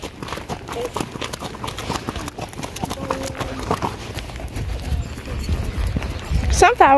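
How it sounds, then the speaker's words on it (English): Horses walk through a corn maze, their hooves clip-clopping in a steady uneven rhythm close by, with people talking over and around the footfalls. "Keep your horse away from my horse"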